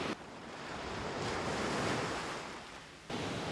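Rough sea surf on Padangbai beach in Bali, a broad roar that swells and then recedes as a wave breaks, with wind buffeting the microphone.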